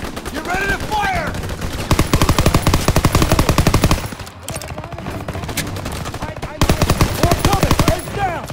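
Rapid machine-gun fire and gunshots from Call of Duty: WWII rattle in dense, sustained bursts, pausing briefly midway before resuming loudly, with faint shouted voices early on.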